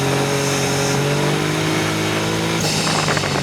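A Caterham 170S, an 85-horsepower lightweight sports car, held at full throttle with its engine note loud and close, climbing steadily in pitch and then jumping as a gear changes near the end.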